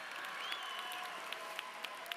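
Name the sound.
applause at a high school graduation ceremony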